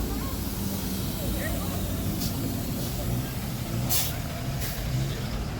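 Flatbed tow truck loading a widebody car with a flat tire, a low diesel idle running throughout and several sharp air-brake hisses bursting out near the end, close and fairly loud.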